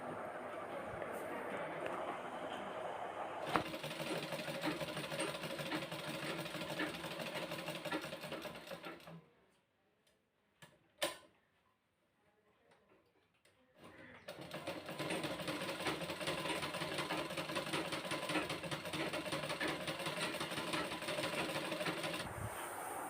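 A sewing machine runs in steady, close bursts while stitching a garment during tailoring work, then stops for a few seconds of near silence and a brief clack before resuming its even, rapid whir.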